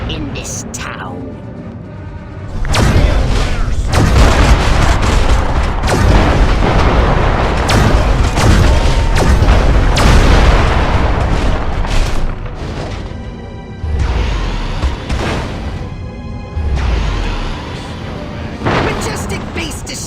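Rolling booms and blasts as the Majestic base is destroyed in Destroy All Humans!, a dense, loud barrage of explosions lasting many seconds, then easing into a few separate thuds near the end.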